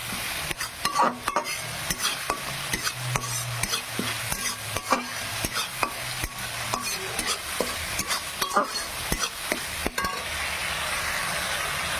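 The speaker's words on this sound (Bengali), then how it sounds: "মশলাটা ভালো করে আমি দশ মিনিট কষিয়ে নেব" Spice paste for a rohu fish curry is stirred and fried in a pan with a little water, with repeated scraping strokes of the spoon over a steady close sizzle and no talking.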